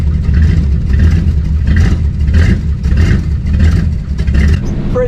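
A Chevrolet Suburban with a 350 engine pulls away, its loud, close engine rumble and road noise rising and surging in pulses as it gains speed, with no voices heard.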